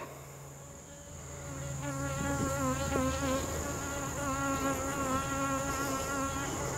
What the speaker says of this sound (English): I got one bee that won't give up.